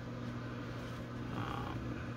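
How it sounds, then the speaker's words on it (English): A fan system hums steadily in the background like a vaporizer, a faint, even drone with a low tonal whine and no other sounds. "The sound you hear in the back is a fan system going on, like a vaporizer."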